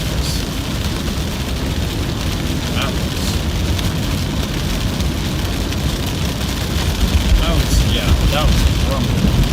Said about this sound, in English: That was one of those thunder rumbles, deep bass.